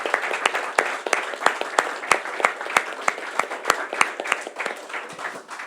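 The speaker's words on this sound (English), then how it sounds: "I think we deserve to give Ivan a round of applause" A round of applause for Ivan McMahon at a YMCA Cork celebration event on the main stage, close and lively, with distinct sharp claps standing out from a thinner crowd that tapers slightly toward the end.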